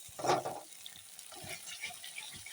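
Chili paste added to hot oil with fried cashew and tomato paste while cooking a paneer dish, a sharp sizzling burst at the start settling into a softer, steady frying crackle.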